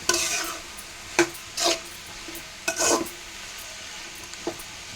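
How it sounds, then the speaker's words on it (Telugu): Food frying in a pan with soft sizzling and a few brief stirring scrapes and clinks of a utensil, close and fairly quiet. "ఇట్లాగే వేగుతుంది."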